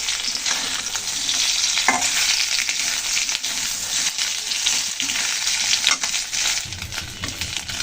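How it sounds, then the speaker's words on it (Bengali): Swamp eel with potatoes and green chilies is stir-fried in a pan, a loud, steady close sizzle with occasional stirring scrapes throughout. "এখন মাছটাকে আবার একটু ভালো করে কষিয়ে নেব।"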